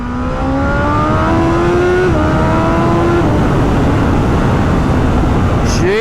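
A BMW M1000 RR motorcycle screams hard under acceleration, its engine note climbing in pitch and briefly dropping at quick gear changes, loud and close amid rushing wind noise.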